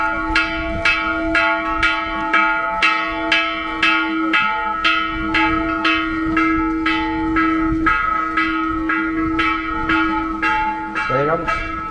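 A church bell is struck by hand in a steady, rapid rhythm, with loud, clear strokes about twice a second, ringing at a religious festival in a Mexican village. A low sustained tone hums underneath, and a brief swoop of another sound comes near the end.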